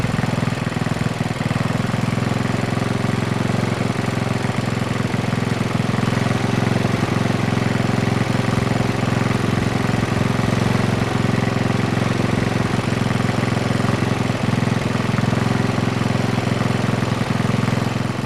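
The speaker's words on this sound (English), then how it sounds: "the engine down to idle and allow the engine to catch up" A small Tecumseh engine idles steadily and loudly up close, a constant low rumble with a slight rapid knock, no voices.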